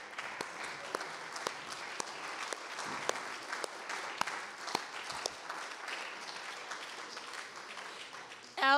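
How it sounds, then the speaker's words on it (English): Audience applause after a poetry reading at an arts café, a soft steady patter of many hands clapping at a distance, faint and continuous. "I want to applaud once again Christie Williams for his amazing reading"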